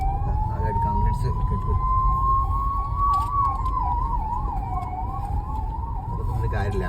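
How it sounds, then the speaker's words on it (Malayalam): An ambulance siren stuck in a fully blocked traffic jam on a road in Kozhikode wails steadily, then switches to a faster warble, loud over constant traffic rumble. "അപ്പോൾ ആംബുലൻസ് വരുന്നുണ്ട്, ഫുള്ള് ബ്ലോക്കാണ്, അവർക്ക് പോകാൻ പറ്റില്ല."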